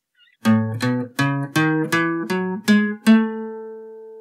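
A Lydian scale: a keyboard plays an ascending run of eight evenly spaced notes, close and clear, with the final note held as it fades.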